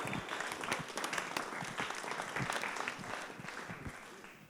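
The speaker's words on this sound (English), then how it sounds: "If we could just a little round of applause" Wedding rehearsal dinner guests give a sustained round of applause, dense steady clapping filling the room for several seconds with no speech over it.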